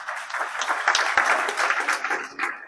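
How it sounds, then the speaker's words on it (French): Audience applause for event sponsors at a Scrum Master conference, steady dense clapping from a crowd filling the room, sustained throughout with slight swells, no talk over it. "je vous propose qu'on les applaudisse ensemble pour les remercier"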